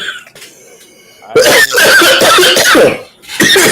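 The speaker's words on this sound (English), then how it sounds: "Damn, coughing." Loud, close coughing fits, a harsh burst followed by repeated hacking coughs and throat clearing, with a brief pause before another cough.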